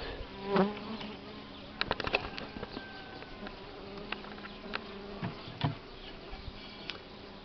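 Bees buzzing around an open hive in early spring, with intermittent near buzzes passing close and fainter humming behind, plus a few soft taps and handling noises.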